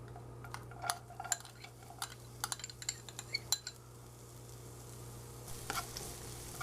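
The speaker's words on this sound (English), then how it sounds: "Now let's move on and saute some garlic, onions, and add some vegetables." Garlic, red onions and shallots sautéing in a pan, a quiet steady sizzle beneath scattered clinks and scrapes of a utensil against the pan, with a steady low hum underneath.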